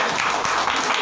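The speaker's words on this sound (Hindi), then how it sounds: "सही है तो ताली बजाओ।" Audience applause at a religious satsang gathering, a short burst of dense, loud clapping with a voice briefly audible.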